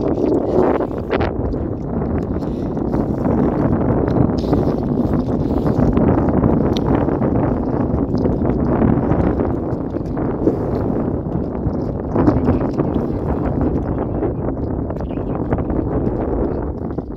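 Strong wind from storm number 4 blows over high floodwater, a steady loud roaring rush that fills the whole stretch without pause, with faint rustling and no voices.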